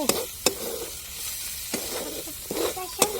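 Green chickpea chutney masala sautéed in a pan, with sharp spatula scrapes and knocks against the metal recurring every second or so over a light background sizzle.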